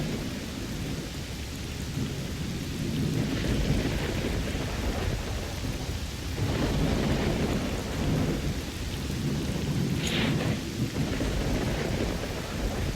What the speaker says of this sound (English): Wow, that thunder is being very obnoxious right now.